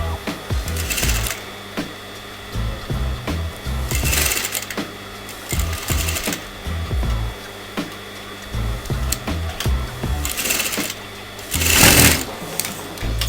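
A sewing machine stitches a V neckline on a kameez in repeated loud, close bursts of rapid mechanical whirring, broken by short pauses, with no talking.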